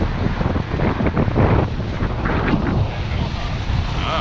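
Strong wind at sea while sailing at 18 to 20 knots, heavy gusts buffeting the microphone over a continuous roar of wind and water, loud and close, with no clear talking.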